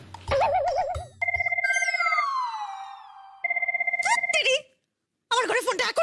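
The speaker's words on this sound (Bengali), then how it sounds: "আমার ঘরে ফোনটা এখনই বাজতে হলে ভালো লাগে না।" A telephone in a home rings with two bursts of rapid electronic pulsing tones, interrupted by a falling whistle-like sweep and surrounded by people talking loudly before and after.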